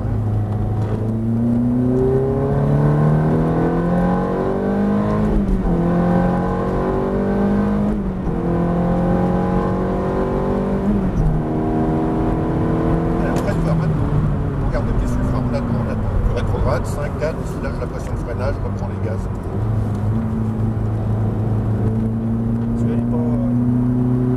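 A Ferrari F430 engine being driven on a racetrack, revving up and down through gear changes and braking, with a loud, sustained, close engine note that rises and falls while people talk over it throughout.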